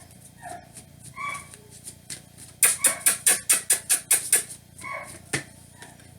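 A dog whines and cries indoors: a few short, faint whimpers, then a quick run of about ten sharp, evenly spaced yelps before the sounds trail off.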